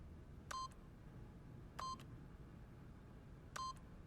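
Keypad PIN code being entered in The Stanley Parable: three separate electronic key beeps, each a short bright tone, spaced about 1.3 seconds apart over a quiet background hum.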